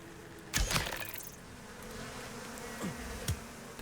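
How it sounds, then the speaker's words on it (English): Bees buzzing in the survival video game Icarus, a faint continuous insect drone punctuated by a few brief clicks and thumps, quiet and with no talking. "Let's grab some more bees."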